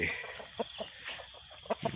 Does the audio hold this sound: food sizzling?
no